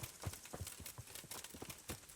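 Horse hooves clip-clop in a steady, brisk rhythm in the video game Kingdom Come: Deliverance, moderately close and without talk.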